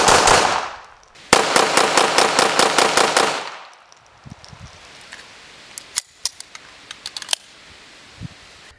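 A CZ Shadow 2 pistol fires a rapid string of about ten loud, evenly spaced shots, each sharp crack running into the next, followed by a few scattered clicks and handling noises.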